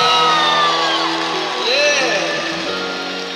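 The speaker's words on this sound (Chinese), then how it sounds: "给自己一个尖叫声跟掌声。" A large crowd in a packed dome stadium screams and cheers at a concert during a baseball season opener, loud sustained shouting and whooping mixed with voices, with a singer's voice rising over it.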